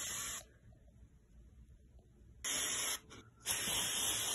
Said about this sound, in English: I'm going to show you how to apply the spray.